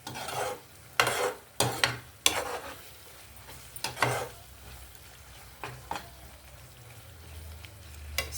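Tomato chukkakura curry bubbling in a hot pan just after the stove is switched off, a soft steady simmer broken by several sharp scraping and stirring strokes, close and with no voices.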